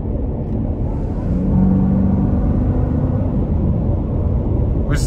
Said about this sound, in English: You can hear the supercharger start spinning right before it really throws itself back.